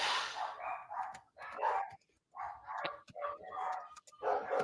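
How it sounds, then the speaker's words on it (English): Several dogs bark and yip excitedly indoors in short loud bursts with brief pauses, close by and with no speech over them. "my dogs are going bonkers"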